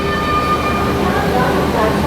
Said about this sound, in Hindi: ये आ गई दोस्तों आप लोगों की विक्रमशिला एक्सप्रेस गाजियाबाद शेड के वेब 7 के साथ